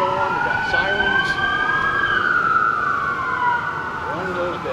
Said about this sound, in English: We don't have our speakers going, we got sirens.